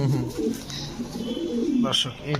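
An Indian Kaldom pigeon gives repeated low, throaty coos close by while people talk over it.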